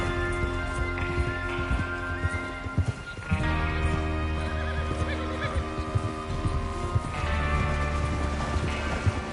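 A horse whinnies in a video game amid clopping hooves and a low rumbling background, with a second neigh a few seconds later.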